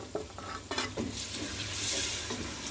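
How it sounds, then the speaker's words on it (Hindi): Chopped tomatoes are stirred into fried ginger and garlic in a pan for baingan bharta, giving a low sizzle under several close spoon scrapes and knocks against the pan, with no voices. "अच्छी तरह से मिक्स करेंगे"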